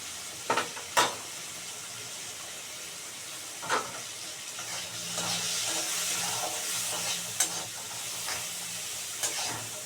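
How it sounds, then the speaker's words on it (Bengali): Potatoes fry with turmeric in a pan for bitter gourd chorchori, a steady sizzle and steamy hiss with several sharp stirring knocks and scrapes of the spatula, close and moderately loud. "এই যে আলুটা একটু ভাজা ভাজা হলো"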